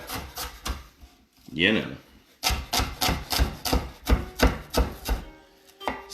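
Knife chopping onion on a cutting board for coleslaw, a run of quick sharp taps in uneven bursts, close and clear, with a person talking between and over the cuts.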